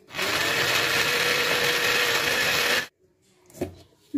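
A loud mixer grinder blending muskmelon for a milkshake whirs steadily for about three seconds, then stops abruptly, followed by a few faint clinks and knocks.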